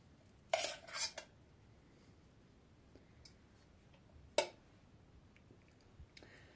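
A metal spoon clinks against a dish while rice is spooned over a layered red fish salad, two quick bursts of scraping clatter near the start and a single sharp tap later, otherwise quiet.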